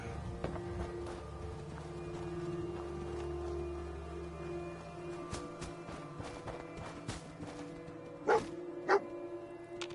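A dog in the Fallout 4 video game on PS5 gives two short, sharp barks near the end, standing out over a steady drone of game ambience and scattered footsteps.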